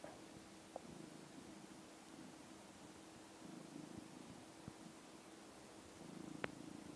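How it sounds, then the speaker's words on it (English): A domestic cat purrs softly and steadily at close range, a low rhythmic rumble that continues throughout with a faint click or two and no talking. "This is the cat."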